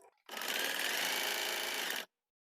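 An Usha Janome Wonder Stitch Plus sewing machine runs steadily through bedsheet fabric in one continuous burst of about two seconds, close and loud, then stops abruptly.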